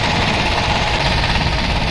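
A Royal Enfield Classic 350 motorcycle with its stock exhaust runs steadily, giving a continuous, loud, throaty engine drone with an even pulsing thump and no voices.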